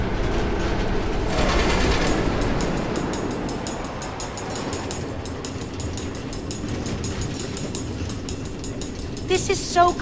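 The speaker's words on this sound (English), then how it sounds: "Automated train tracks running all through the Nether, connecting all the different order members?" Trains run on automated tracks through the Nether in Minecraft Story Mode, a rumbling rail clatter with rhythmic clicks, loud at first and then settling into a steady rolling beat, with a brief burst of sharper sounds at the end.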